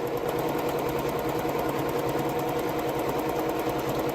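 Sewing machine running an embroidery stitch across a towel at a steady fast pace, a dense continuous mechanical whir and rapid needle chatter, close and even.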